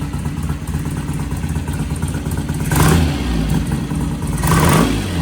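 Vintage British motorcycle engine fitted with a Mikuni carburetor, idling with a steady, clattering low putter, broken by two brief blips of revving around the middle and the end.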